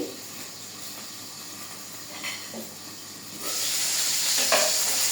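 Pointed gourds stuffed with meat fry in a pan with a steady hiss and sizzle, a few soft stirring scrapes, and the sizzling swells louder partway through as the heat is turned up.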